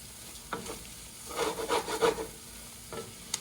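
Dirty rice stirred in a pot with a wooden spoon, soft close scraping strokes that cluster in a short busy burst mid-clip, with a few isolated scrapes before and after.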